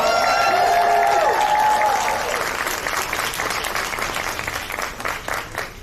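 At a TwitchCon panel, a large indoor audience claps and cheers loudly in a sustained wave of applause with whoops near the start. The noise slowly thins out while a voice talks faintly underneath.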